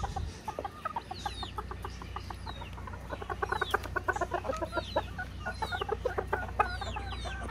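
Hens in an enclosure with quail cluck steadily in a rhythmic, overlapping chorus, with occasional higher chirps and a constant low hum in the background.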